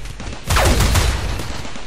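Gunfire in RimWorld during a defence against incoming raiders: a single loud, booming burst that kicks in partway through and then trails off into a rumbling decay.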